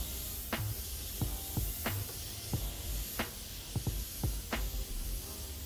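A steady, close airy hiss of a Grex XGi2-ES airbrush with a 0.2 mm nozzle spraying paint runs throughout, with a few faint clicks and taps scattered over it.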